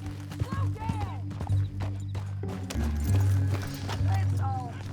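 Horse hooves clip-clop in the Western game Red Dead Redemption 2, a steady trotting rhythm up close with occasional whinnies, under continuous talking voices.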